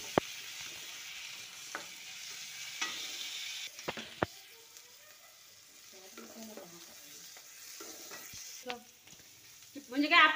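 Onion, green chili, garlic and ginger fry quietly in a pan, giving a soft steady sizzle broken by occasional stirring scrapes and clinks of a spoon against the pan.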